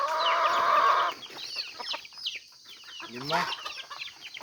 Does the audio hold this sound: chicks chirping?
yes